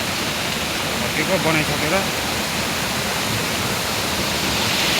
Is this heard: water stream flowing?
yes